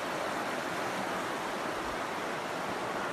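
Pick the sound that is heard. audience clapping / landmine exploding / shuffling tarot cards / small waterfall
small waterfall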